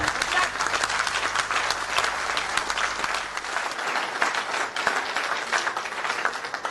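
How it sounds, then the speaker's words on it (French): Loud, dense audience applause at a formal event after a speaker is introduced: many hands clapping close and continuously for several seconds, with a faint background murmur that drops away partway through. "Et donc pour cette raison, applaudissons Paul Ella"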